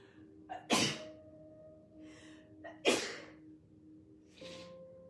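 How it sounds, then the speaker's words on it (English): A person sneezes twice, each preceded by sharp inhaled gasps, close and loud, with quieter breathy sounds between. "I need to sneeze."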